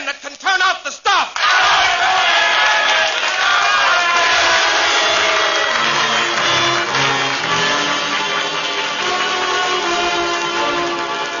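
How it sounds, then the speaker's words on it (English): Crowd cheering in an old radio play, a massed roar of voices swelling after a brief opening burst and holding loud and continuous, shouts rising above the din. "Now they're cheering"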